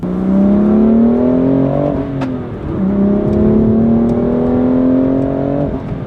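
A BMW M2's engine revs hard through two long acceleration pulls, a loud, close, rising drone that dips briefly at a gear change before climbing again, with no talk over it.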